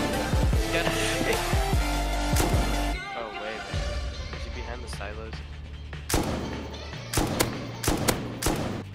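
Gunfire in the video game Rust, modded server, comes as bursts of loud close shots, dense at first and then sparser cracks later, mixed with game music and voices talking over it.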